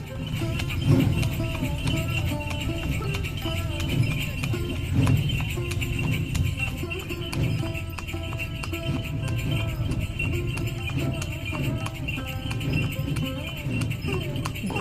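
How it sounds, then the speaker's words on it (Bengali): Hooves of a horse pulling a chariot beat a steady clip-clop near the Teesta Barrage at Gajoldoba, heard under continuous road and crowd noise with voices in the background. "খুব সুন্দর এবং সুস্বাস্থ্যের অধিকারী এই ঘোড়া টকবক টকবক ঘুরের শব্দ তুলে ছুটতে লাগলো রথ নিয়ে"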